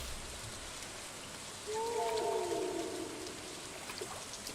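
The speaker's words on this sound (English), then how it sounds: "I don't like the noises that happen when it's raining in this game." Steady rain in a farming video game, a constant wash of falling drops with a brief whale-like tonal game noise rising over it midway, no talking.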